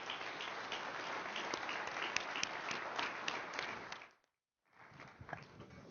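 A seated audience applauds warmly to welcome the mayor to a solar energy event, with dense, steady clapping at moderate distance for about four seconds, a sudden brief silence, then the clapping resumes.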